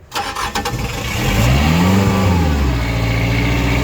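A Mitsubishi MXR35 mini excavator's diesel engine cranks and catches, then revs up strongly and holds a loud, steady drone close by, with no talking.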